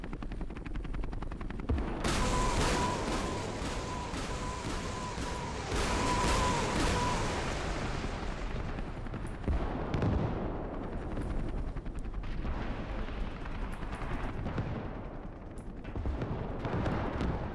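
Artillery fire in a large-scale realistic war video game: loud rumbling blasts and dense booming barrages, with a sustained mechanical drone early on, then repeated heavy impacts continuing close and loud without speech.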